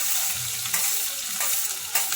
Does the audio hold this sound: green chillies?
yes